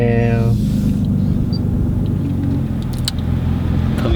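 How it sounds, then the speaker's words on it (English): A Nissan 350Z engine drones steadily while driving, with a loud, continuous low rumble filling the cabin and no clear revving, plus a short harmonic tone near the start. "my first time driving a 350Z"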